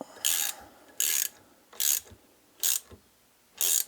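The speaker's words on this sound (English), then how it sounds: "now I'm tightening the other cam chain tensioner bolt" Ratchet wrench tightening a cam chain tensioner bolt on a Honda CB250RS motorcycle engine, five short, loud clicking bursts at a steady pace, close up and with no talk over them.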